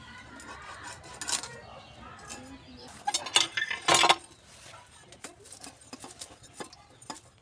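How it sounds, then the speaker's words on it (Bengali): Knife cutting khoira fish on a board, a series of close clinks and knocks with a few sharper metallic strikes, scattered and irregular over faint background noise. "মাছগুলোকে এখন কেটে নেব।"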